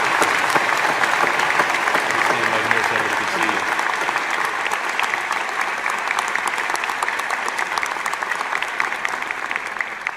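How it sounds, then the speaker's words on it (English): Sustained applause at a university spring graduation ceremony as an honorary doctorate is conferred, steady dense clapping from a large crowd lasting the full ten seconds with faint voices beneath. "Let's give him a round of applause."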